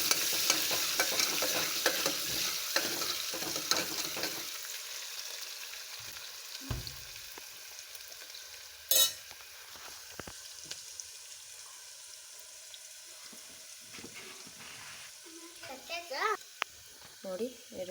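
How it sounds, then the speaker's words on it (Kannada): Onions fry in hot oil with cumin and mustard seeds for a vegetable sambar, a soft steady sizzle with occasional stirring scrapes and clinks, while someone talks over it in stretches. "ಇವಾಗ ಈರುಳ್ಳಿ ಚೆನ್ನಾಗಿ ಫ್ರೈ ಮಾಡ್ಕೋಬೇಕು."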